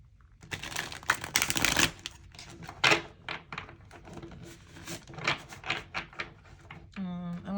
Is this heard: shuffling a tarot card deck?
yes